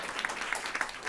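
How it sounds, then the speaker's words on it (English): Brief burst of audience applause after a climate resilience and agriculture talk, a dense wash of clapping with a few sharper claps standing out, at moderate distance. "So let's give that a round of applause."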